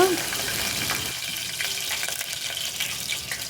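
Curry leaves, mustard seeds and cumin frying in hot oil make a steady, close hiss and crackle, with sizzling holding evenly throughout.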